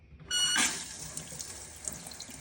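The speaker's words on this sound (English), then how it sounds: "So I'm going to turn the water back on." Water rushes into a toilet tank as the supply is turned back on, starting with a sudden hiss and settling into a steady, moderately loud flow, with no speech.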